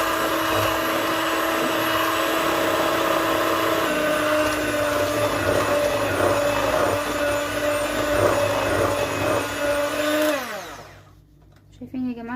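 An electric mixer whirs loudly and steadily while beating butter and eggs for pasta frola dough, its motor pitch shifting slightly before it switches off near the end.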